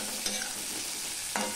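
Green chillies, slit lengthwise, drop into a hot pan of oil and sizzle with a steady low hiss, with two brief louder bursts as they hit. The dish is a Bengali small-fish curry with fenugreek seed tempering.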